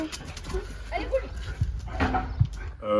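A pet dog at a car rally in the Vosges gives faint, brief yelps and whines, mixed into background chatter and outdoor noise.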